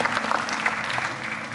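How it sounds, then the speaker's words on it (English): An audience at a SeaWorld live animal show applauds in a brief, steady patter of clapping, moderately loud and even throughout with no talking over it. "Let's have a round of applause for our beautiful cotton-top marmoset."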